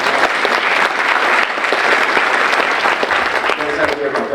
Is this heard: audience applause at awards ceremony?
yes